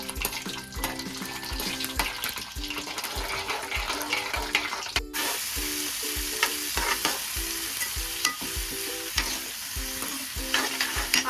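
Onions hiss and crackle in hot oil for an egg stir-fry, with steady sizzling and regular scraping stirs close up, continuous throughout.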